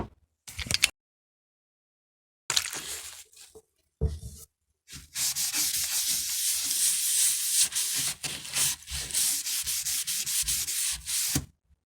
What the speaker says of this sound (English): I was just rubbing it down with white spirits